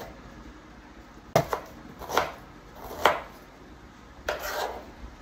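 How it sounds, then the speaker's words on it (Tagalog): A knife chops onion on a board for sardine rice, four or five distinct close cuts spaced irregularly over a quiet background. "syempre hihiwa tayo ng sibuyas"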